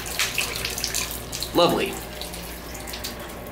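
Hotel shower running with strong water pressure, a steady close hiss of spray that swells briefly partway through, with a short spoken remark over it.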